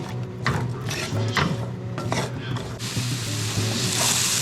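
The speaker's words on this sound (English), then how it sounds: "Into a skillet, we've got a couple tablespoons of olive oil, and in go our onions and carrots. We're gonna get a nice saute on those" Onions and carrots sauté in a couple tablespoons of olive oil in a skillet, with a continuous close sizzle broken by repeated stirring scrapes of a utensil against the pan.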